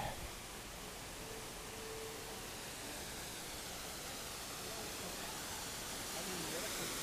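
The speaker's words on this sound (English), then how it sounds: "Nice, lovely waterfall covered in green slime." Steady, broadband rushing water from a waterfall at Epcot, heard from nearby, continuous and even throughout with no other sounds.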